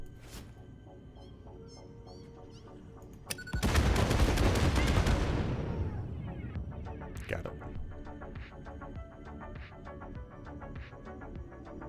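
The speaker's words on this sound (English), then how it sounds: "Just going to keep on chucking some grenades." Grenades exploding in the game Satisfactory: one loud, sudden blast rolls into a long crackling rumble that fades over a couple of seconds, with lighter game noises and faint background tones before and after.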